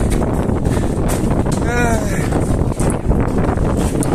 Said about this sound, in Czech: Začalo foukat.